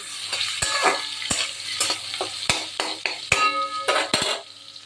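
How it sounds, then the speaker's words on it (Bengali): Pumpkin fries in mustard oil flavored with fish oil, with a soft sizzle under a run of sharp metal clicks and scrapes as a spatula turns the pieces in the pan, close up. "আর এখানে আমি কুমড়োটা ভাজতে বসিয়েছি"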